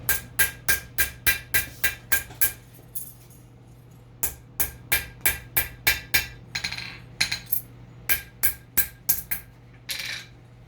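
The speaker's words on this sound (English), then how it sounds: "I went to another hammer using two hammers, a heavier cross peen and then a little bit lighter cross peen." Two cross peen hammers, one heavier and one lighter, strike a metal armring in quick bright clinking bursts of about eight to ten blows each, separated by short pauses, close and alone.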